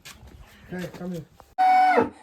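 A cow gives a loud, drawn-out moo near the end in a village at Chotta Puboong, Darjeeling, following a stretch of quieter voices and low shuffling.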